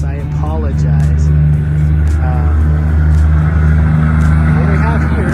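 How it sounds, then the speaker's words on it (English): Trucks pass on a nearby road, producing a loud, continuous low engine rumble and tire roar that stays steady under someone talking close by. "We're right off the road here, so if it's pretty loud from these trucks, I apologize."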